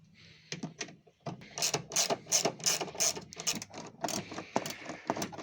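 Ratchet with a Torx T30 socket unscrewing bolts on an Opel Zafira, bursts of rapid close clicking pawl strokes with short pauses, no voices.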